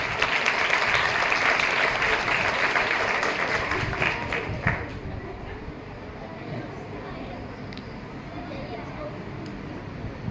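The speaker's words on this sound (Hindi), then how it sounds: "अच्छा लगा तो ताली बजाओ।" Audience applause at a district-level Hindi Day poetry reading, a dense wash of clapping that is loudest at first and thins out after about five seconds into a lower, scattered patter with some background chatter.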